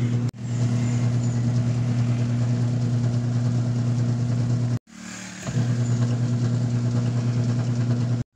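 A Sharp twin tub washing machine motor, just fitted with a replacement capacitor, hums loudly and steadily, cuts out briefly midway as it switches direction, then starts again and keeps running with a strong, even drone.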